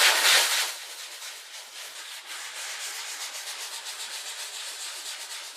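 Drywall joint tape sanded by hand: a bright, grainy scrape that opens with a loud stroke, then settles into steady, rhythmic back-and-forth rubbing, close and alone.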